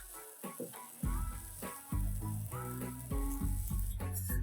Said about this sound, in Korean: 팬에 고기 볶음 두스푼 쫑쫑 선 김치나 채소 다진 건 넣고 냉동실 얼려둔 밥 1분만 해동에 넣어 볶아보세요